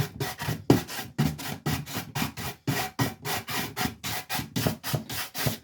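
A buffing brush rubs a finish on an upcycled wooden desk drawer in quick, even back-and-forth strokes, each a close, raspy scrub, repeating steadily about three times a second with no talk.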